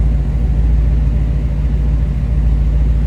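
A 1934 Ford Deluxe three-window coupe street rod with a fuel-injected 327 engine idles from behind the car, giving a steady, loud, deep rumble with no talking.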